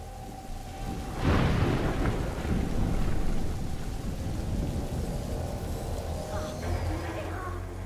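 Thunder cracks and rolls through steady rain in the video game A Plague Tale: Innocence, with a loud burst early on, then a sustained downpour and a lingering rumble.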